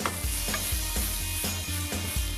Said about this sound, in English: Garlic, chili, roasted cumin, red onions.